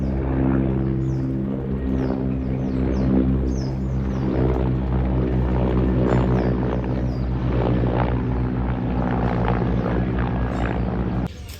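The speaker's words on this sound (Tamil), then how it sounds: "ஹெலிகாப்டர் வருது." A steady, heavy engine drone with low rumbling harmonics fills the whole stretch, like a helicopter passing fairly close overhead.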